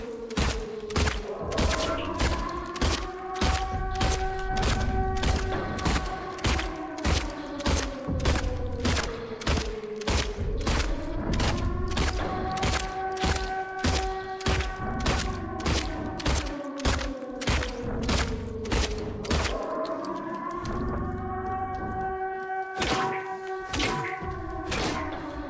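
Rapid video-game gunfire: dense, evenly spaced shots repeating loudly for the whole stretch, with tonal in-game sound running underneath.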